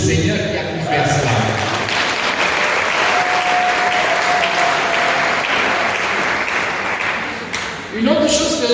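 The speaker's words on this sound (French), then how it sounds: "ça mérite qu'on applaudisse le Seigneur qui a pu faire cela" Congregation in a parish church applauding during a sermon, loud sustained clapping from many people, with a voice briefly heard at the start and speech resuming over it at the end.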